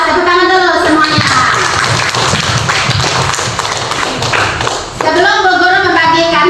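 Schoolchildren in an Indonesian classroom clap their hands together on the teacher's cue, a loud, dense burst of rapid claps in the middle, with the teacher's voice speaking before and after.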